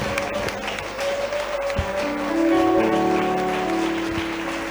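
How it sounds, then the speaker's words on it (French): A church congregation at a Sunday worship service applauds and cheers for Jesus, a steady wash of clapping that swells midway and continues alone over a sustained organ or keyboard chord. "Est-ce que tu peux acclamer pour Jésus de Nazareth?"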